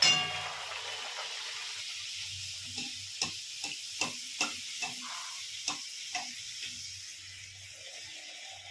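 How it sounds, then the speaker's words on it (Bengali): Luchi fries in oil with a soft, steady sizzle, broken by a quick run of about eight crisp clinks from a utensil tapping the pan, then quieter bubbling. "লুচিটাকে ভেজে নিই।"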